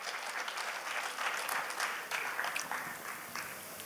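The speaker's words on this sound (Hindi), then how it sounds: "इनके लिए एक बार जोरदार तालियां बजा दीजिए" Enthusiastic crowd applause at a Hindi poetry gathering (kavi sammelan) in Indore, a dense wash of many clapping hands that swells and ebbs slightly, heard alone without speech.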